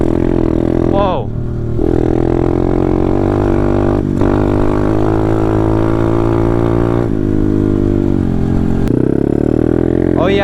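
A Taotao DB17 125 dirt bike with new rear suspension rides along, its engine droning loud and close with steady revs and brief dips, while a rider talks over it.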